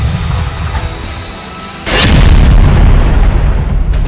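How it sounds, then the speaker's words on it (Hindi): A heavy explosive blast used by engineers to demolish tunnels in Gaza booms suddenly after a quieter stretch, then rumbles on loud and low with crackling debris. "इन्हें तोड़ने के लिए इजरायली इंजीनियर्स विस्फोटक और रोबोट्स का इस्तेमाल कर रहे हैं"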